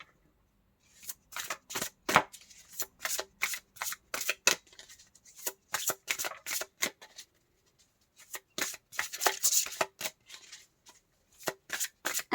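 Tarot cards being shuffled by hand, a series of crisp riffling bursts with short pauses between them, close and fairly quiet with no talking.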